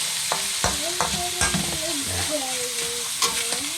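Ground pork sizzles and fries in a pan while a utensil stirs and scrapes it in several distinct strokes, close up, with no talking.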